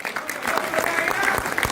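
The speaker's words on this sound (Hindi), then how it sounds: "जोरदार तालियां।" Loud applause from an audience at a talk, a dense wash of clapping holding steady for under two seconds with no one speaking over it.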